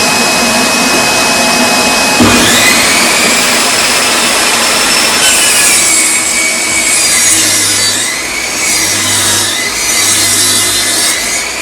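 A power saw cuts through tacky timber for a Japanese tea house build, a loud continuous whining buzz that rises and shifts in pitch as the blade bites, close and alone with no voices.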